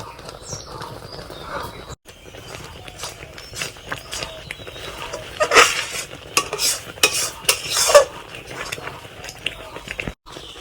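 Thickened raw mango pulp stirred in a pan, with a spoon scraping and dragging through the sticky mixture in irregular strokes and a few louder knocks against the pan, close up, without speech.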